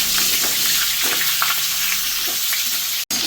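Cauliflower frying in hot oil gives a loud, continuous, close-up sizzle that briefly drops out near the end, with no voices.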